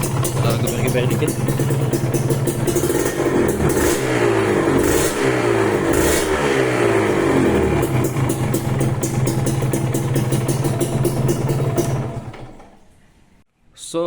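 Kawasaki Ninja RR two-stroke with a JP Racing carbon exhaust, revved close up in several rising and falling throttle blips over a steady idle, then abruptly cut to near silence near the end.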